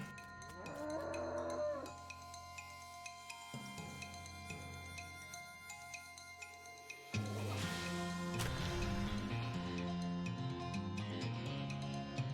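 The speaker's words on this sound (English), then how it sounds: "Ringing this will attract the attention of at least one infernal cow." Infernal cows from the video game West of Loathing moo in a sequence of drawn-out electronic calls after a horseshoe is rung, with layered game sound effects and a louder, denser passage in the second half.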